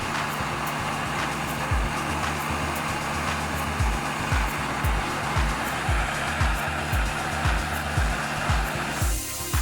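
A continuous hiss of compressed air blowing hard while cleaning a Hitachi TRK 8190W boombox, with a low rhythmic thumping pulse underneath, loud and close throughout.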